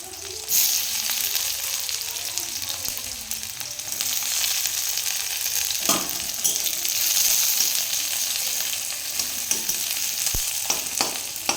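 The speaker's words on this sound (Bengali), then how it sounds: "পেঁয়াজটা একটু ভাজা ভাজা করে নেব" Chopped onions and slit green chillies frying in oil, a steady loud sizzle with occasional stirring clicks and scrapes, no voices.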